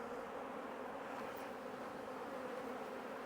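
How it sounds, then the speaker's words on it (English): Dense, steady buzzing of a great mass of honey bees inside a production hive fitted with a queen excluder, a continuous close hum with no pauses or voices. "we have got a ton of bees"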